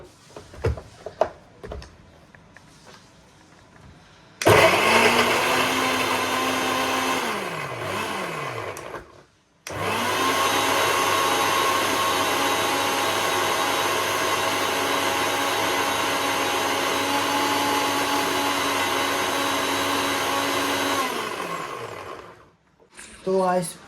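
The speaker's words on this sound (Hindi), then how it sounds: "लहसुन प्याज कट चुका है, तो चलते हैं इसको पीसने" A kitchen mixer grinder grinds cut garlic and onion into paste, running loud and steady with a high whirring motor in two long bursts separated by a brief pause, the pitch dipping as each run winds down.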